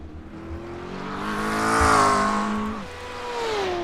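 McLaren race car in the iRacing game at Mount Panorama, its engine note rising and then falling as it accelerates and shifts, loud and close in an onboard view, with no talk.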